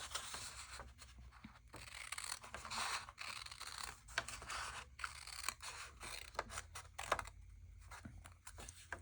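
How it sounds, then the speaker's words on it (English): Scissors cut through paper along a fold line in a run of close, crisp snips and rasping slices, each stroke followed by a brief pause, with no voices over it. "we're going to cut up this line here, the fold line, and cut this part off here"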